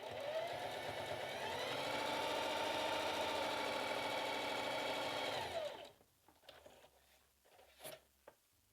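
Sewing machine straight stitching through a doubled layer of fleece fabric, a steady fast whirring hum for several seconds that winds down and stops, followed by faint handling clicks and rustles, close and fairly quiet.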